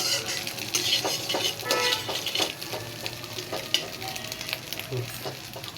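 Beaten eggs sizzle and fry in a kadai for noodles while being stirred, a continuous crackling hiss broken by repeated scraping strokes and light clinks of the utensil, close by.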